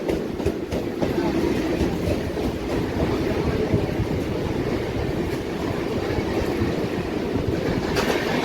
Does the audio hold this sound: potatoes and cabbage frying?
no